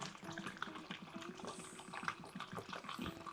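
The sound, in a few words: water being poured in for coffee brewing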